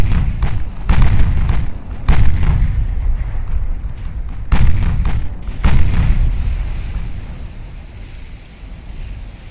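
Naval gunfire and explosions in the warship game Ultimate Admiral Dreadnoughts: several heavy, low booms arrive at irregular intervals. Each one rolls off into a long rumbling tail, and the roar fades near the end. No voices are present.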